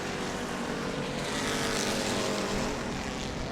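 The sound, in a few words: Crown Victoria race cars racing at New Smyrna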